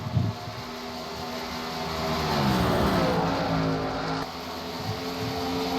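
NASCAR stock cars race at Charlotte, a steady engine drone swelling into a louder pass midway and then easing back to a constant roar.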